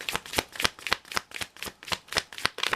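Tarot cards are shuffled in a crisp, even rhythm, about ten quick riffling bursts close by with no talking.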